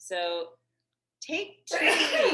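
A single sharp, breathy sneeze bursts out just after someone speaks during a group meeting, loud and close.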